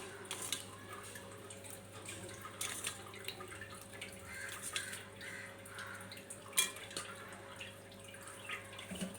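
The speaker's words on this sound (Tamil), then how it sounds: "இப்போ நம்ம இதுக்கு தேவையான அளவு தண்ணி சேர்க்கலாம்." Water trickles and drips steadily into a bowl of pizza dough mix, soft and close, with a low hum underneath and no talking.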